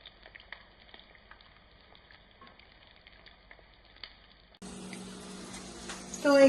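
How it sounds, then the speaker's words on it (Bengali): Fish fry cooks in a pan on a home stove, with a faint, distant background for several seconds before a louder, close sizzle abruptly takes over, with a voice speaking briefly near the end. "আর এখানে এই যে ফিশ ফ্রাই ভাজা চলছে"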